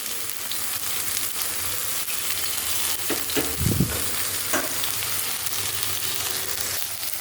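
Pointed gourd pieces dropped into hot oil in a wok set up a steady, close sizzle and crackle that runs the whole time, with a few brief louder bursts midway.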